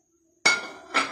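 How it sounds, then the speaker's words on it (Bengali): Lid lifted on a hot pot on the stove used for baking a cake without an oven, two quick metallic clinks close together, the first sharper and ringing briefly. "তো আমি ঢাকনাটা খুলছি"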